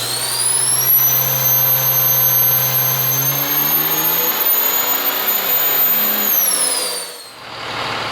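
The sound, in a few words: diesel Mega Cab truck turbo engine pulling on dyno, intake removed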